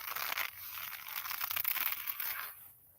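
An eel skin purse is handled close up, giving soft, continuous crinkling and light scraping that fades out near the end.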